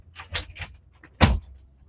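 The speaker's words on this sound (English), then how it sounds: "I'm just going to quickly open this door." A door is opened quickly indoors: a series of short clunks and rattles from the handle and latch, then a louder thump as it swings free.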